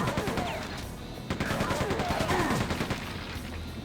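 Rapid gunfire from the Quake 2 mines level, a dense run of repeated shots with sweeping game effects layered through, fairly loud and close, with no talking over it.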